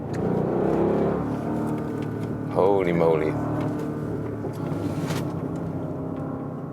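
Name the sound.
Audi RSQ8 engine driving uphill, shifting with paddles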